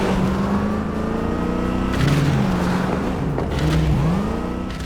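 A Quadra Sport R7 muscle car in Cyberpunk 2077 rumbles low and steady, then the engine note rises and dips as it accelerates, with a brief tire squeal, loud and close throughout.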